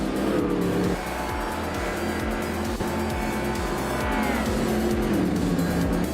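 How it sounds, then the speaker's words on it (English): A 1970 Abarth 1000 TCR race car in a racing video game, its engine revving up and down in rapid repeated gear shifts, loud and close, with tire squeal and other cars in the race mixed in. "Max Spirally is driving a 1970 Abarth 1000 TCR"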